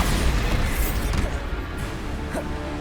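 A Bombarda spell explosion in Hogwarts Legacy, a loud booming blast with crashing debris, close and full, decaying over a few seconds.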